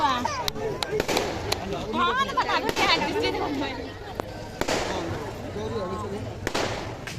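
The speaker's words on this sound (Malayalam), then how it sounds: "പടക്കം പൊട്ടണ കാരണം" Sharp firecracker bangs burst irregularly at a Shivaratri temple festival, several loud cracks scattered among chattering voices nearby.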